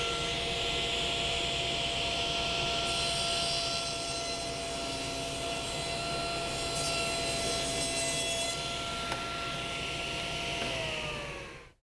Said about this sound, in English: Now I'm going to go to the table saw and rip this edge to clean it up